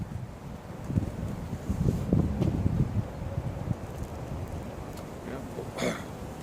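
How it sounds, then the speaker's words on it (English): Breezy outdoor wind buffets the microphone in uneven gusts, with low rumbling noise swelling and easing throughout and a faint rustle near the end. "Little breezy out"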